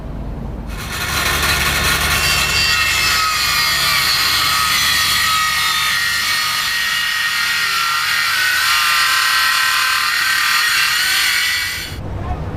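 A power tool cutting along a marked line during fiberglass work on a catamaran, one continuous loud, close whine-and-grind of about eleven seconds that starts and stops abruptly.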